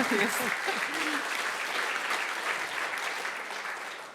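Sustained audience applause at an awards ceremony, a broad, even roar of many hands clapping that holds steady throughout, with a brief voice at the start.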